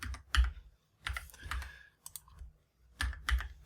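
Numbers tapped out on a computer keyboard in short clustered bursts of close, soft key clicks separated by brief pauses, with no voice.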